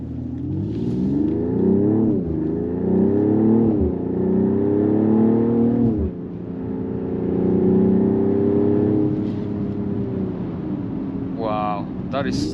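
A 2024 Mercedes-AMG GLE 53 4MATIC+ SUV is driven hard, its engine note rising and falling through repeated pulls and shifts as a loud, steady interior roar with a brief dip midway.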